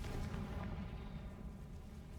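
A Confringo blasting spell detonates in Hogwarts Legacy, a deep rumbling boom that rolls on and slowly fades, heavy in the low end and fairly quiet overall.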